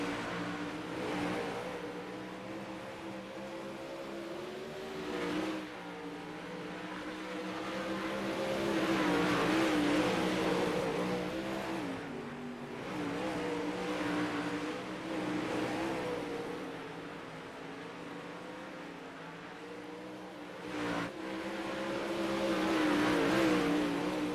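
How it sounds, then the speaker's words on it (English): 360 sprint cars racing at Lernerville, engines roaring as the pack passes, swelling and fading in waves with sharp revving, loud and continuous with no speech. "Anders, Funk, Ray, Flieger, and Noakes, your top 7 cars on the racetrack"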